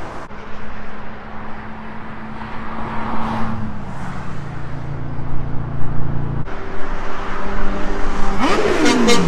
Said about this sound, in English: it's gonna be loud because of all the traffic